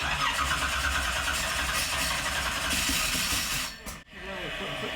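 A 711ci twin-turbo Hemi engine in a jet boat fires and runs loud and rough in a steady roar, dipping briefly near the end before picking back up, with faint voices in the background.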